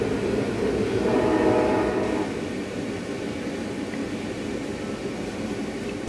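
Brightline high-speed train riding to Miami, heard from inside as a steady, continuous rumble and rolling drone with a slightly louder stretch early on, no talking.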